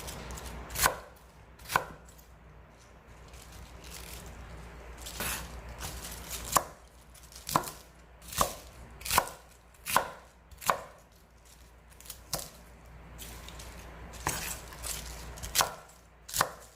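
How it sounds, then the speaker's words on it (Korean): Kitchen knife slicing cabbage on a cutting board for summer pickles, giving a dozen or so crisp, evenly spaced thuds close by with brief pauses between cuts. "양배추도 적당한 크기로 썰어서"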